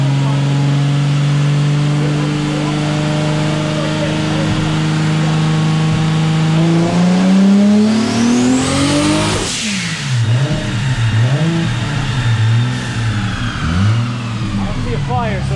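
A Toyota Supra engine revs hard on a dyno, its pitch climbing steadily to a loud peak. The note then breaks off abruptly into rough, wavering sputters as the engine blows up. Talk is faintly present.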